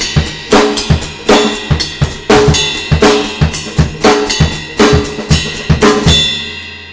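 A full drum kit grooves through a pattern in 7 while the left foot keeps eighth notes, with punchy kick and snare hits, cymbal wash and a busy, loud, close rhythm that rings out briefly at the end.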